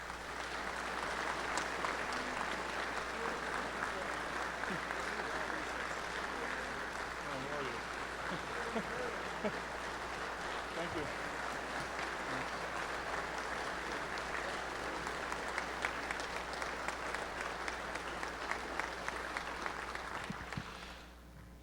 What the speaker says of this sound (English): So you guys deserve a round of applause for what you've done.